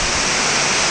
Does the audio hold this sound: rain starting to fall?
yes